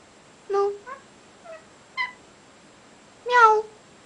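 A cat meows indoors: five short, separate calls in a quiet room, four small, soft ones followed by a louder, longer meow near the end.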